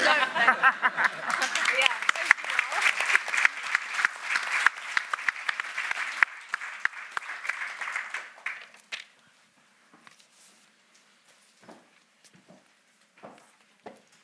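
Audience applause for food entrepreneurs at an event, loud sustained clapping with some chuckles that stops abruptly, leaving a few scattered claps and quiet sounds.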